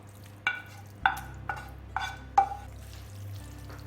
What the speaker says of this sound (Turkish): Şimdi soğuttuğumuz Pazılarımızı da ilave edelim. Hepsini birden karıştıralım.